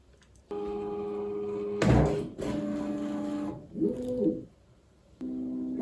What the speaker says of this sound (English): Okay, so it's now doing motor noise cancellation.